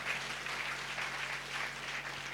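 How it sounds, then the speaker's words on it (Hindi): A church congregation at a Sunday service claps in praise, a dense, steady wash of many hands clapping together at moderate loudness throughout, with no talk over it. "ताली बजा के प्रभु की स्तुति करेंगे"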